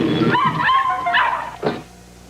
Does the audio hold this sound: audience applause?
no